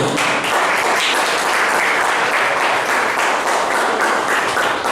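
A congregation applauds for the Lord during a church service, loud sustained clapping with a faintly rhythmic pulse running steadily from start to finish, no talking over it.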